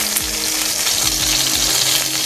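Chicken Schezwan momos pan-fry in oil, a steady loud sizzle and crackle filling the short stretch without a break.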